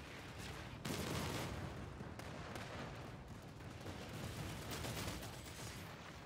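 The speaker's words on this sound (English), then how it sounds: "These guns are really, really powerful." Heavy vehicle-mounted guns firing in the game PlanetSide 2, a dense continuous barrage of booming shots, fairly faint overall.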